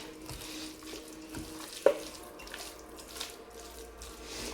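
Chicken pieces for biryani are rinsed under running tap water in a sink, a steady faint trickle with one sharp clink partway through.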